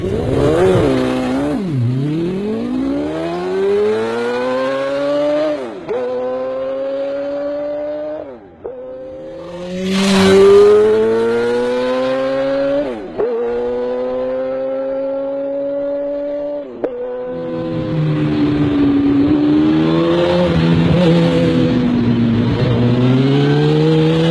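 A Kawasaki H2R motorcycle engine revs hard through repeated rising sweeps, each climb cut by a brief drop before surging again, loud and close with no talking.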